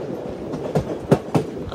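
Passenger train running on rails on a journey from Cherlapally to Chennai, a steady rumble with a few soft rhythmic clacks of wheels over rail joints, heard from inside a coach far back from the engine.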